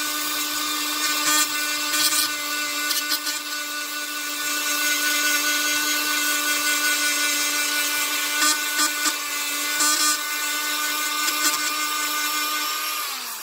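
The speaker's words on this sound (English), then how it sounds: "We'll just grind that down with a Dremel tool to smooth it out" A Dremel rotary tool grinds down a bead of glue, giving a continuous high-pitched whine with steady tonal hum that wavers slightly as it bites into the material, close and alone for the whole stretch.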